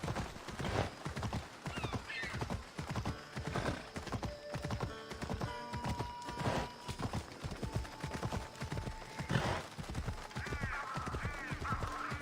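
Horse galloping in Assassin's Creed Odyssey, steady rhythmic hoofbeats with a couple of neighs, amid game effects and faint talk.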